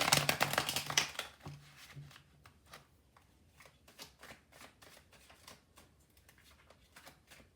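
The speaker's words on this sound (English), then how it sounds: "I'm going to give them another shuffle." Tarot cards being shuffled by hand, a burst of dense riffling at first, then lighter, irregular card flicks and taps that continue quietly with no talking.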